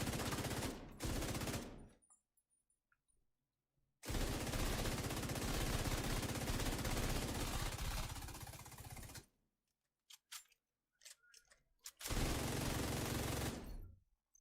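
In the video game The Division 2, a gun fires in long, loud, sustained automatic bursts. The first short burst is followed by a five-second stream, scattered single shots, then another burst.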